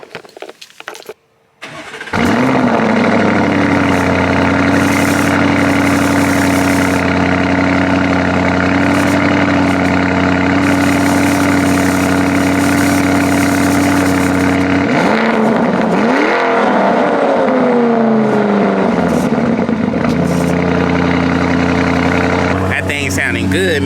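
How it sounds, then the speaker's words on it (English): A Dodge Hellcat V8 cranks over and fires up, settling into a loud, steady, rumbling idle close by, with a brief rev partway through before falling back to idle. "Let's hop up in here and start this thing up and see what it's sounding like."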